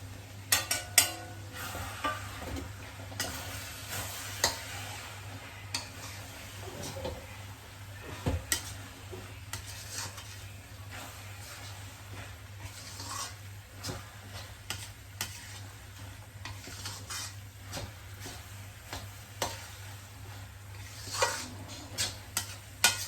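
Spice masala for mutton biryani sautés in a pot: low, continuous frying crackle with repeated scraping and clinking of a spoon stirring against the metal, close and steady.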